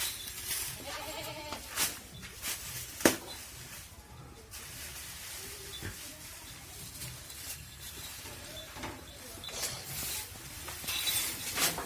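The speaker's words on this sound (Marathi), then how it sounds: "ही आपली बकऱ्याची दावा आहे" Goats bleat in a village goat shed, several short cries at moderate distance over faint background rustling and shuffling, with no clear talking.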